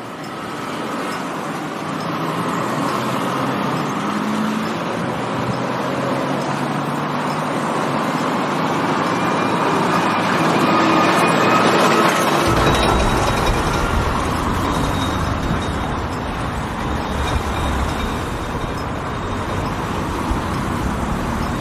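Traffic circulating around a roundabout, heard from its middle: a continuous broad roar of passing cars and heavier vehicles, with a deeper low rumble joining partway through, steady and moderately loud with no voices.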